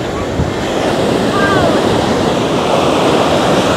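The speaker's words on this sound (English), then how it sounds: "it's nice and breezy. Probably hear the wind." Wind and surf at Long Branch Beach, New Jersey, a steady broadband roar of breaking waves and breeze buffeting the microphone, loud and continuous throughout.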